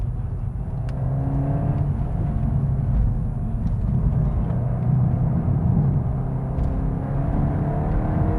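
Volkswagen Golf GTI Clubsport 45 driving hard, a steady low engine and road rumble from inside the car with a rising tone under it, continuous and fairly loud.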